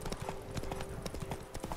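Horse hooves clip-clop steadily in The Witcher 3: Blood and Wine, a fast, regular trotting rhythm close up over a steady game ambience.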